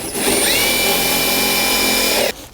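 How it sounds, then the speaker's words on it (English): A wire brush, probably power-driven, scours rust off a car body with a steady, loud, whirring grind that holds for about two seconds and then stops abruptly. "Just take a wire brush, just wire brush it real quick. Just get some of that rust off."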